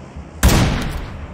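Gunfire from the mobile battle royale game PUBG Mobile: after a quiet start, a sudden loud burst of rapid shots erupts and rattles on with a fading tail through the rest of the moment, with no talking.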